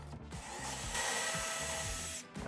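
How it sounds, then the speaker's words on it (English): A power drill whirs steadily into wood for about two seconds, drilling a pocket hole, loud and close, then stops. "then drill using the drill bit provided"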